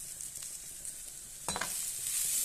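Onions fry in oil for a biryani topping, giving a soft, steady sizzle with a single clatter of stirring midway, heard alone and fairly faint.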